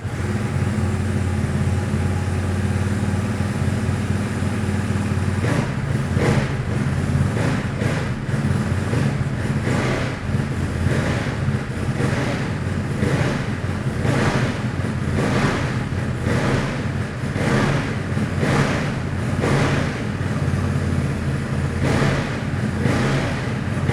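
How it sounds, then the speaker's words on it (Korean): A 2023 Ducati Monster motorcycle engine idles and revs through its stock muffler, a steady throaty rumble with repeated throttle blips, close and loud, no talking. "순정 머플러의 배기 사운드 한번 들어보고요"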